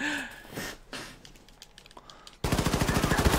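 Rapid automatic gunfire in Wolfenstein 2: The New Colossus, a loud, dense burst of evenly spaced shots that starts abruptly near the end, after scattered thuds and clatter.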